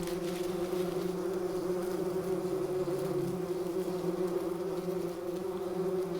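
Bumblebees buzzing inside their nest in an old mouse nest, a steady, close, continuous hum of many wings that holds level throughout with no talk.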